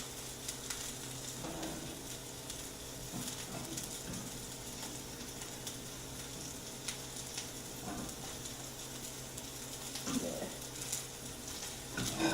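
Thin salmon fillet frying in a pan, a steady low sizzle running throughout with occasional soft stirring or shifting sounds, moderately quiet and without talk.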